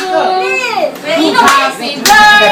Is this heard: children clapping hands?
yes